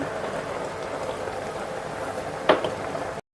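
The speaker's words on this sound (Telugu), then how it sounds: "ఈ విధంగా అయితే అన్నం అయితే బాగా ఉడకాలి" Rice boiling in a pot of water for ragi sangati, a steady bubbling simmer heard close and alone, with one brief clink near the end.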